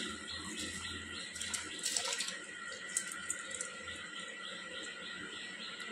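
Cut pieces of young jackfruit being washed in water, with a continuous close wash of splashing and trickling that swells briefly midway and then settles back to a steady flow.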